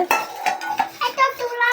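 A small new kadai cooking pot being handled, with bright metallic clanks and scrapes in an irregular run of knocks, close and fairly loud, no talk.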